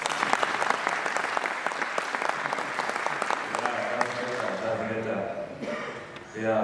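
An audience at an induction ceremony claps steadily in a dense, continuous wash of applause that tapers toward the end, with faint voices underneath.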